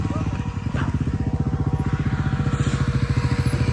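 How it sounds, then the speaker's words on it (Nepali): Motorcycle ridden over ice on a snowy road at night, its engine a steady, rapid low-pitched thrum with regular pulsing beats, close and continuous throughout. "आइसमाथि बाइक चलाउँदा"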